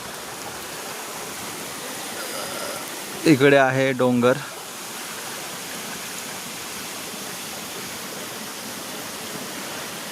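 Steady broadband rush of a waterfall and stream water flowing near the big banyan tree at Pemgiri village, continuous throughout, with a voice speaking briefly over it early on.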